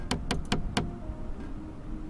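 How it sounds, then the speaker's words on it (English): Four sharp hollow knocks in quick succession, a video game horse-hoof sound like creaky wood, followed by a quiet low rumble. "that creaky wood sound is... That's a hoof?"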